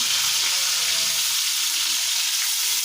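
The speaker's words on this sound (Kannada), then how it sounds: "ಈಗ ಬೆಳ್ಳುಳ್ಳಿ ಹಾಕಿ ನೋಡ್ರಿ ಫ್ರೆಂಡ್ಸ ನಾನು ಬೆಳ್ಳುಳ್ಳಿ ಹಾಕಿದ್ಮೇಲೆ ಕಡಿಪತ್ತ ಹಾಕಕತ್ತೀನಿ ರೀ" Garlic and curry leaves fry in a pan of hot oil, a steady loud sizzle throughout that thins out slightly partway through, with no voices.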